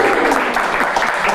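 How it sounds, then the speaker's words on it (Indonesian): A studio audience breaks into loud, close, continuous applause, a thick wash of clapping with no pauses over the short stretch. "Tepuk tangan dong buat Rispo dong"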